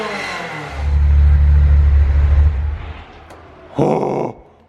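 A Ferrari F355 engine revs up into a loud, deep, sustained roar for about two seconds, settles, then gives a short sharp second blip before fading.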